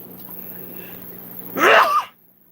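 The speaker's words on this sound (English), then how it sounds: "Hold on, I'm going to sneeze." A single sharp sneeze bursts out in a fish breeding room after a brief quiet stretch of low background hum, then fades to silence.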